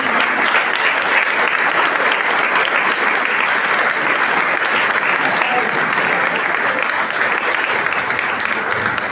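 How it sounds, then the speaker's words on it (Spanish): Loud, dense applause from a church congregation during a Sunday service, sustained and even for the whole stretch, close and filling the room. "Le damos un fuerte aplauso a nuestro Señor."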